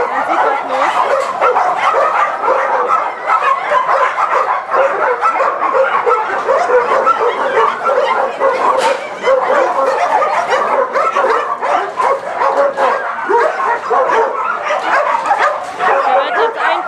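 Dogs in a shelter keep up a dense, continuous racket of barking, yipping and whimpering, loud and close throughout, with speech running under the noise.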